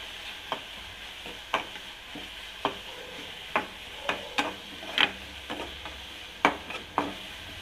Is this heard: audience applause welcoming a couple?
no